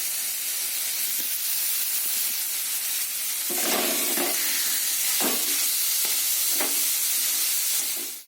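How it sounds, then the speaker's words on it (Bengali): Sliced bottle gourd frying in a pan, giving a steady close sizzle and hiss with a few soft stirring knocks, loudest in the middle of the stretch. "লাউটা আমার ভাজা ভাজা হয়ে গেছে, এবার আমি নামিয়ে নেব।"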